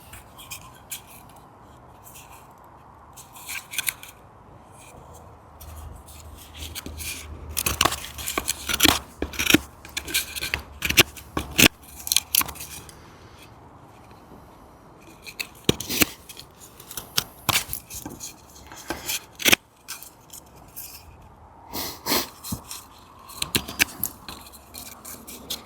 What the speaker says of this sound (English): I'm going to use my Lars Fält slip joint knife by Casström